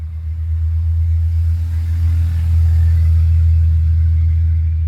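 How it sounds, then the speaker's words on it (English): Road traffic passes near a beekeeping yard as a steady, loud low rumble of engines, swelling slightly as vehicles go by, with no voices. "Lots of traffic."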